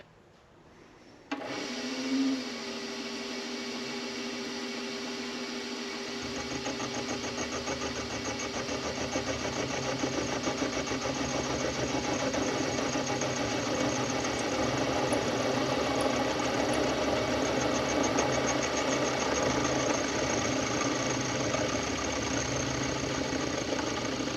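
A PM-25MV benchtop mill starts up and takes a conventional cut on steel with a custom chamfer-mill arbor, giving a steady motor whine with a grinding, rumbling cutting noise that continues evenly for a long stretch, with no talking.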